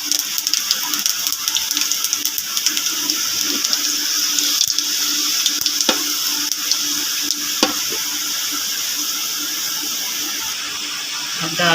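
Garlic and cumin sizzling in hot ghee in a pan for a dal tadka, a steady bright hiss that runs the whole time with a few small crackles and pops, close and fairly loud.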